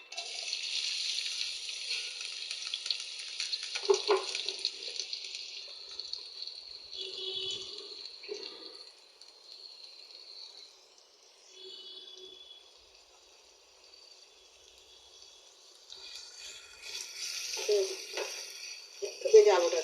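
Onions fry in a little oil in a dry kadai, a bright hiss that rises and falls, with some scraping and clatter, fairly close and with no talk.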